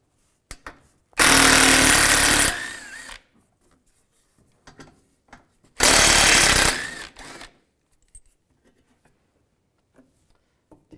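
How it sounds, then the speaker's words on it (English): Bolts on a 2015-2020 Cadillac Escalade front bumper driven out with a 10 millimeter socket on a power tool, two loud close bursts of buzzing rattle separated by quiet handling clicks and taps. "Underneath, we want to take these two bolts out. Use a 10 millimeter socket."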